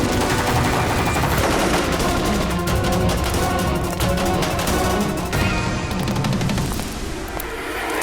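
Sustained gunfire in a CID police drama shootout, rapid bursts of loud shots and crashing impacts piling over one another for the whole stretch, with no speech.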